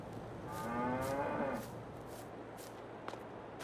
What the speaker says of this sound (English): Then we have our cows located right there.